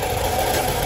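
A Honda City i-DSI engine left running for a long stretch while it overheats and loses radiator water, giving a steady close-up idle hum that holds even and unbroken throughout.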